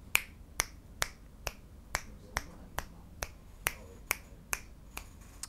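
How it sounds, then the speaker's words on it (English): About a dozen crisp finger snaps at a steady, even pace, close and alone in a quiet room, picked up by a Saramonic Blink 500 Pro B1 clip-on wireless microphone without its lavalier. "I'll do a finger snap test"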